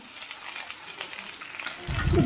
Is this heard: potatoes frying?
yes